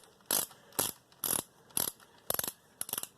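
A ratchet wrench tightens a bolt on an ATV clutch: six short bursts of close, crisp clicking, each a quick ratcheting stroke, evenly spaced with brief quiet gaps between.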